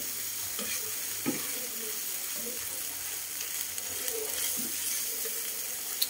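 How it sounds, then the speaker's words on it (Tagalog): Food frying in a pan is stirred, giving a steady sizzle with occasional soft scraping knocks from the utensil, close and moderately loud, with no talking. "Halu-haluin lang ng maayos para hindi siya matutong."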